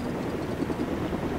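Helicopters in the video game Lego Batman 2 make a steady rotor drone that stays at an even level throughout, with no talk over it.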